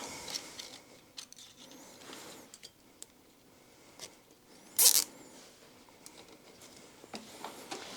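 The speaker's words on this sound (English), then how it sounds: "I'm actually going to zip tie it" A short, sharp ratcheting zip of a zip tie being tightened near the middle, quick and close, standing out over quiet handling noises and faint clatter while working on a Honda ATC 250R.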